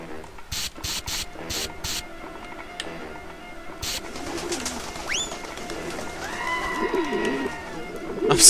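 A pigeon in the video game Jazzpunk coos softly and repeatedly after a few sharp mechanical clicks, the cooing growing louder toward the end.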